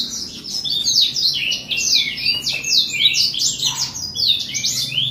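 A caged Lorok songbird sings a rapid series of bright, sharp chirps and trills, repeated in quick bursts over a low background hum, close and clear with no talking.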